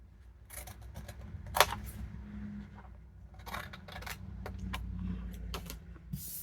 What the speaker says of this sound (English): I'm going to cut that right off, this little corner here.